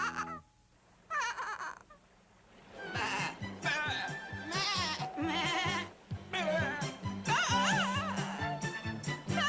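Sheep bleat repeatedly in a cartoon-like scene, a series of wavering, close cries with short pauses between them, some overlapping.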